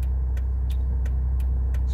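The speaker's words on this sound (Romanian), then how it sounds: "Și o să auzi foarte ușor cum mașina tremură." A car engine idles low and steady while shuddering at the clutch biting point during a hill start, a constant rumble with faint periodic ticks about every third of a second.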